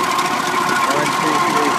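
Eight-cylinder engine running at a steady idle, a dense close rumble with a rapid mechanical ticking rhythm and a faint tone above, brief and continuous with voices present.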